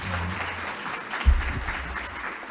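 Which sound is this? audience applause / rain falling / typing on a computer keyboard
audience applause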